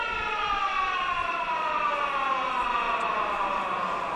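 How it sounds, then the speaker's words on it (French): The stadium siren at the Aimé Giral rugby ground sounds a loud, sustained wailing tone that holds steady throughout, heard alone without speech. "c'est sur la sirène d'Aimé Giral"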